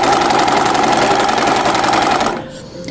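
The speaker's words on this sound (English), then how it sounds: "I like to sew right off the edge or off the end of the machine. Keep sewing so that you get a thread tail." A sewing machine running steadily as it stitches right off the fabric edge, a loud close continuous buzzing whir that slows and fades near the end.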